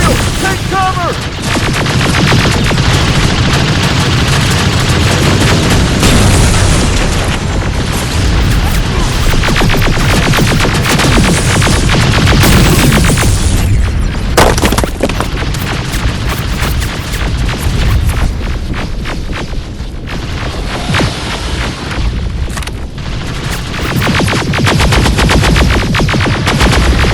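Dense, loud gunfire and explosions from the video game Terminator: Resistance run continuously, with rapid bursts and heavy booms layered into a chaotic battle din, and voices shouting over it.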